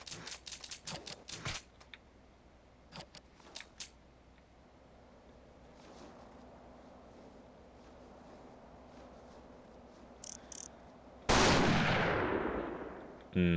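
Gunfire from the video game The Thing, with a rapid burst of close shots up front, a few scattered single shots, a steady hissing bed, then a loud blast that slowly fades near the end.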